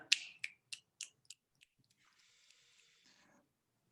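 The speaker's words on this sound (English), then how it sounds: "Let's give a hearty snap clap to Manya." A series of finger snaps used as applause at a virtual poetry reading, six or seven crisp snaps in an uneven rhythm that trail off, followed by a soft hiss and then quiet.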